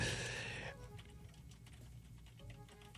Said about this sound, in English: You probably can hear me tapping on the keyboard.